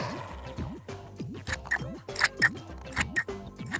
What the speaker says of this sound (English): Now, keep your card folded and cut out your shapes.